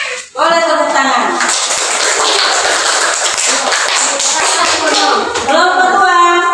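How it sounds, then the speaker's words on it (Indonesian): A classroom full of students breaks into applause, a dense, loud burst of clapping that runs steadily for several seconds, with a voice heard briefly at the start and again near the end. "Boleh tepuk tangan."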